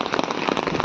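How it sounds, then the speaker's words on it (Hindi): Heavy rain pours down outside an old haveli in Rajpura, making a dense, crackling patter of drops hitting surfaces that is loud and continuous throughout the brief moment. "वही खतरनाक बारिश वापस से स्टार्ट हो गई है।"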